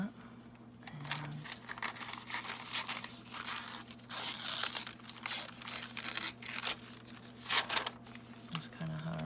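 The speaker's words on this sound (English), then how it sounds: "And I just kind of do just some ripping." Paper being torn in random strips for a notebook made from a cereal bag and a mailer, with continuous close ripping and crinkling bursts over a faint background hum.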